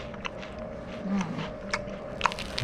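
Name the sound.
biting into a tuna melt sandwich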